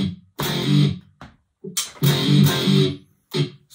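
A heavy distorted electric guitar riff from a thrash metal songwriting session plays in short, chugging bursts separated by brief stops, loud and close, with no talk.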